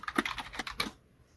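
Rapid, crisp keystrokes on a computer keyboard while entering R code, a close, clicky burst of typing lasting under a second before falling to near silence.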